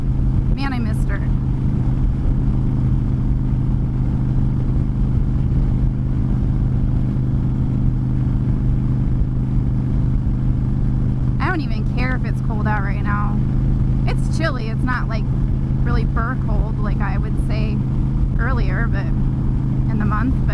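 Steady engine drone of the Fury motorcycle on a chilly ride, a continuous low rumble with wind throughout, and someone talks over it in the second half.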